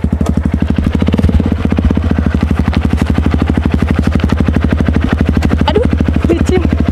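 An old, worn-out motorcycle engine runs close by, a loud rapid rattling idle with an even, pulsing beat that continues steadily throughout.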